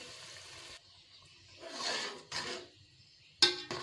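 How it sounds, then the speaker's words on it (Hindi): A cup of water is poured into a ridge gourd (turai) curry, making a soft splashing gush that swells and fades, followed by a brief sharp clink near the end. "1 कप मैं इसके अंदर पानी शामिल करूँगी।"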